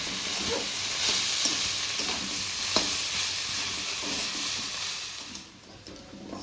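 Mustard greens with fried potato and eggplant stirred in a pan. A steady hissing sizzle comes with occasional soft clinks of the spoon and fades near the end.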